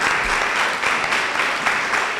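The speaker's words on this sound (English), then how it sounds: "I want to give our panelists a huge round of applause." Audience at a Women and Money panel event applauds the panelists, a dense, steady round of clapping from a crowd, fairly loud and continuous throughout the short stretch.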